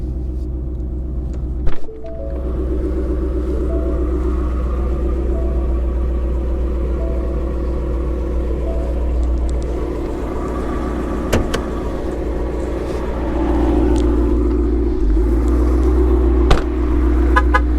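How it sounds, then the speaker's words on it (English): A 2015 Ford Mustang GT Premium with Performance Pack, a built race car, idles with a deep, steady, even rumble at close range for the full length, with a few brief clicks and knocks over it. "Very smooth, consistent idle."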